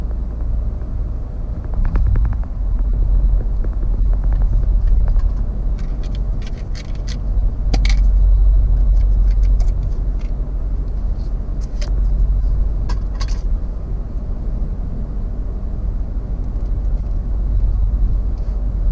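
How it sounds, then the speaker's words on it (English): Steady road traffic streams past toward the Gold Coast, a continuous low rumble of car engines and tyres with passing vehicles swelling and fading, heard alone without talk. "Look at the traffic coming into the Gold Coast."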